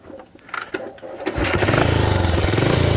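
A BSA 441 Victor motorcycle gets kicked over with a few thumping strokes, then the single-cylinder engine catches and settles into a loud, steady, close idle.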